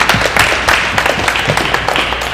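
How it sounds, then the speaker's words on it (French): Applause from a festival audience honoring the day's session hosts, a dense patter of claps with a few sharper hands standing out, steady and fairly loud throughout. "une bonne main d'applaudissements pour eux"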